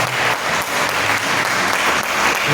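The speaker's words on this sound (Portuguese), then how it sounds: "Agora eu te convido a dar uma forte salva de palmas ao Senhor Jesus" Congregation in a church giving the Lord a strong round of applause, a dense, steady wash of clapping from many hands filling the room throughout.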